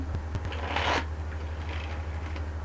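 Tarot cards are riffled and shuffled in one quick, papery burst, with a few soft taps before and a low steady hum underneath.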